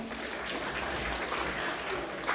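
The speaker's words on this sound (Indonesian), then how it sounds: "boleh tepuk tangannya" Audience clapping at the opening ceremony of a PMII East Java student organisation conference, a dense, continuous roar of hands that stays level throughout, somewhat muffled and distant.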